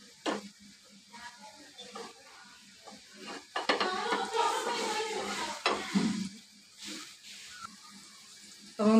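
Dosa batter sizzling on a hot griddle while it is spread round and round, close crackling and scraping bursts that swell and fade, with a person talking intermittently over it.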